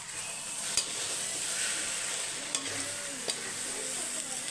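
Potatoes with chilli powder sizzle steadily in a frying pan while a spoon scrapes and stirs them, giving a few sharp clacks over the continuous close frying hiss.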